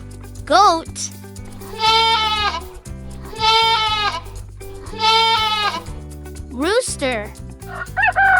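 A goat bleats in a few long wavering calls over a bouncy children's music backing, with a short rising squawk near the start and end.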